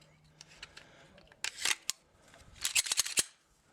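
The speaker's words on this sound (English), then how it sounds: "So just goes right back onto the rails." A Glock 35 pistol fitted with a 9mm conversion barrel has its slide pushed back onto the frame rails, making a few quiet metallic clicks and then two louder bursts of sliding, rattling metal-on-polymer scrapes.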